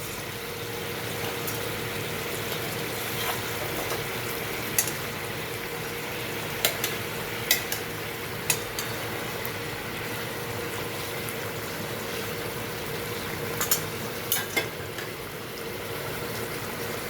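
Rohu fish pieces frying in oil for rui rezala, a steady close sizzle with occasional sharp pops and crackles throughout.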